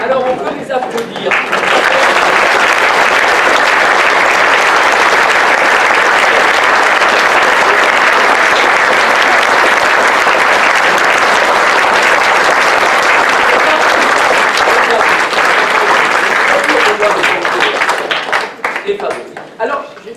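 Audience at a theatre festival in Gignac bursts into loud, sustained applause for the performers, a dense wash of clapping that swells in quickly, holds steady for about fifteen seconds, then tapers off.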